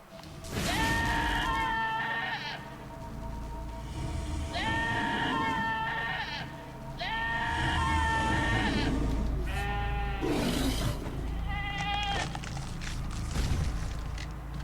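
Cartoonish sheep from the video game Albert and Otto bleat repeatedly, several wavering cries spaced a couple of seconds apart over a low, dark game background drone.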